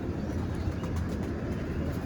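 Pigeons coo low and soft in a continuous murmur, close by, with no voices.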